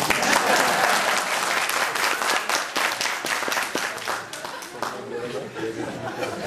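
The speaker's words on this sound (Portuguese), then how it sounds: "Aplaudan." Audience applause filling a hall, dense and loud clapping at first that gradually thins and tapers off, with some chatter and light laughter underneath.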